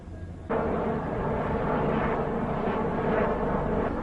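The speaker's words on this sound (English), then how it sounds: "There's just like an entire fleet of helicopters currently flying right overhead." A loud, steady roar of a fleet of helicopters starts abruptly and holds over Kingston, a dense droning wash with a faint pulsing, passing close overhead.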